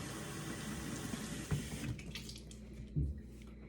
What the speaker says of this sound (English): I'm going to fill this bottle with water,